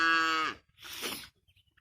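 Cattle, cows and calves, out in a farm field: one loud, close moo falling in pitch, then a second breathier low call, followed by quiet.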